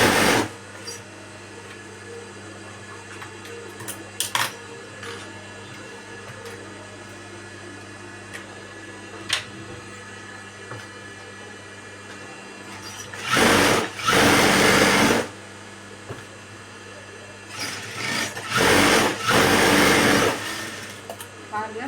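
Sewing machine stitching the lining of a blouse, with sharp loud bursts of rapid mechanical whirring separated by quieter stretches where someone speaks.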